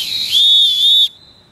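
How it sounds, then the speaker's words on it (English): A single sharp, loud referee whistle blast held for about a second, then cut off abruptly, leaving a faint trailing tone. "blow the whistle like this"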